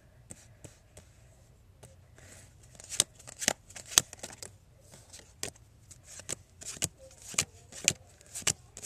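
Playing cards are dealt one at a time into piles during a card trick: a string of soft, close snaps and flicks in an uneven rhythm over faint background hum.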